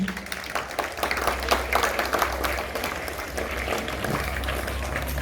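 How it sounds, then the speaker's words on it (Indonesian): Applause at an Indonesian elementary school flag ceremony, steady clapping from many children and teachers outdoors with a low hum beneath, moderately loud and continuous. "Kita beri aplaus untuk petugas hari ini."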